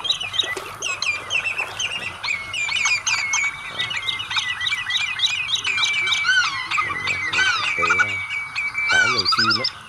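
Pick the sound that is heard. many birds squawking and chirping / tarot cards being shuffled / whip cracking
many birds squawking and chirping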